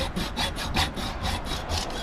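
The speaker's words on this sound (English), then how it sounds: "I'm going to saw through this" A hand saw cuts through a humidifier part clamped to a workbench, giving about nine quick, even rasping strokes close up with no talking.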